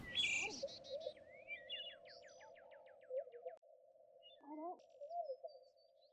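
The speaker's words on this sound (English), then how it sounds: "See, the birds are way too loud." Loud birds chirp and tweet nearby, with quick repeated calls and trills over a steady tonal hum, and faint speech at the start.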